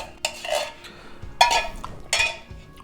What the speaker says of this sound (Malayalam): എന്നിട്ട് നന്നായിട്ടൊന്ന് ഇളക്കി